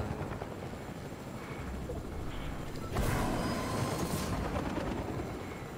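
A helicopter in the Fortnite video game, a low whirring rotor drone under steady background noise that swells louder midway and stays up for a couple of seconds before easing slightly.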